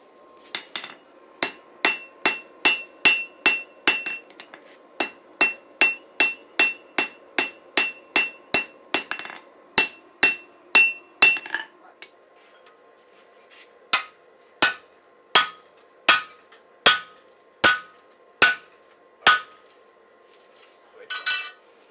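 Steady, ringing hammer blows strike hot scrap steel dozens of times in even rhythm while forging a hatchet, pausing briefly midway before resuming, close and loud.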